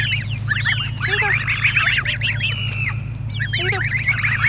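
Geese honk loudly and repeatedly at a chicken coop, a close, busy chorus of overlapping calls with a steady low hum running underneath.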